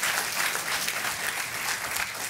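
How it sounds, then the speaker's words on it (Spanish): A church congregation gives strong, sustained applause. The dense clapping holds at an even, full level for the whole moment, with a faint murmur of the crowd mixed in. "strong applause to the Lord?"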